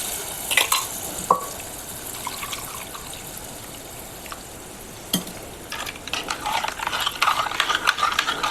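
Tempering of crackled mustard seeds poured into kokum (ratambe) kadhi, giving a steady close sizzle and liquid bubbling with a few sharp ladle clinks and stirring sounds, no voices.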